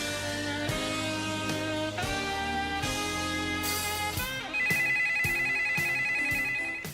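A telephone rings in repeated electronic bursts, clear and fairly loud, a steady pattern of tones that shifts partway through to a brighter, higher trill, with no one speaking.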